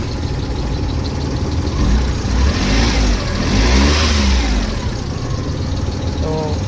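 A Suzuki F6A engine in a 4x4 starts up and revs repeatedly, loud and close, its pitch rising and falling in steady surges over a constant idle rumble, with a faint voice briefly audible.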